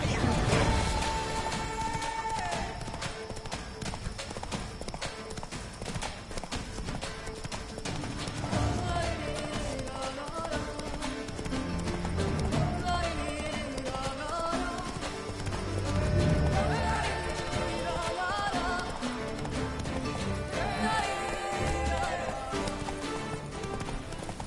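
Roach the horse gallops in The Witcher 3, steady hoofbeats clattering along under continuous game music, with brief whinny-like sounds.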